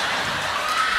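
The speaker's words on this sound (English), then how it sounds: "all I hear is clapping" Crowd applause on a talk show, a thick, continuous roar of clapping that fills the whole moment with no voices above it.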